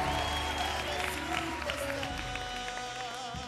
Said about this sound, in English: Once again, a big round of applause for Doreen and all the very best of luck.